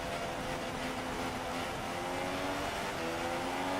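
Steady, loud whine of Formula 1 race car engines in a racing video game at the Canada round, a continuous high-pitched drone with gear-shifting pitch changes as Perez's car overtakes.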